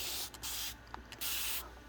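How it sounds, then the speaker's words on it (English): A hand spray bottle mists earthworm tea onto indoor plants in several quick bursts of hissing spray, close and soft, with brief pauses between squeezes. "I just go around and spray all my plants indoors"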